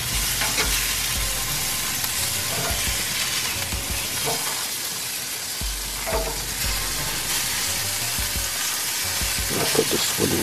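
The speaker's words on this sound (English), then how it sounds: "sizzling." Sausages sizzle and spit in a hot pan, a constant frying hiss broken by occasional clatters of stirring.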